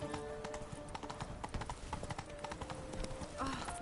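Horse hooves clip-clop in a steady galloping rhythm in Witcher 3: Blood and Wine, close and continuous for the whole stretch, with a faint voice-like sound near the end.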